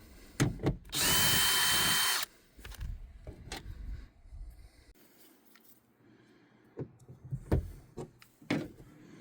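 Power tool on a bolt of a Chevy Impala rear door latch actuator, with one close, loud whir lasting about a second, surrounded by scattered clicks and handling knocks of the door parts.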